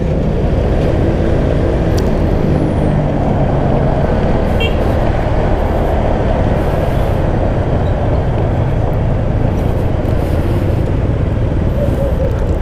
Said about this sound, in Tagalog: Ganito yung traffic sa umaga.